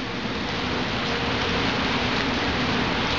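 Hail falls on a park bench as a dense, even hiss of tiny impacts, steady and fairly loud for the whole stretch, with no voices.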